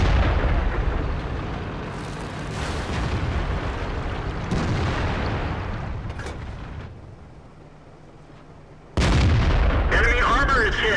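Tank cannon fire in a video game, booming loud blasts with rumbling decay over continuous battle noise, ending in a sharp, sudden loud burst near the end.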